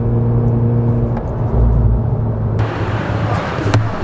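A Mazda RX-8 on the road, its engine humming low and steady with a brief surge in the middle before broader tire and wind noise takes over, continuous and fairly close.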